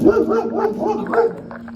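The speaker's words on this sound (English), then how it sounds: "So I knew there was a little dog back there." Small dog barking near a shepherd walk, a quick series of high, yappy barks and yips close by, fairly loud and alone, tapering off near the end.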